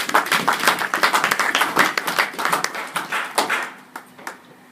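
A church congregation claps together in quick, dense bursts of applause, loud and close, tapering off into a few scattered claps at the end.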